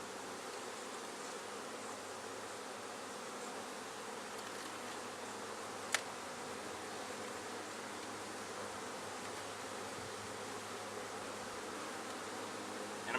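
A honeybee swarm hums in a low, steady, even drone around a hive set on a limb, faint and continuous with one sharp click partway through.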